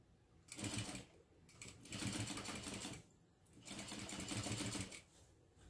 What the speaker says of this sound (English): then top stitch along the seam. And remember to increase your stitch length.